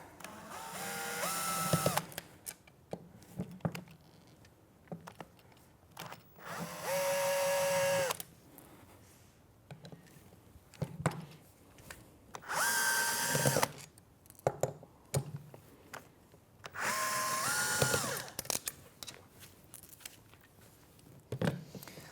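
A power driver with an Allen bit backs bolts out of a Contrology Pilates reformer carriage in four separate whirring bursts of a few seconds each, with quiet handling clicks and rustles in the pauses.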